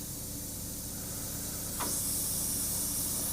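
Small hobby compressor pushing air through an airbrush, a steady broadband hiss that jumps louder partway through as the pressure is dialed in, continuous with no voices.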